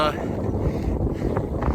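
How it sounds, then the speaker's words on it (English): Strong wind buffets the microphone in a steady low roar during snowfall, with faint voices murmuring underneath. "And it's really windy too."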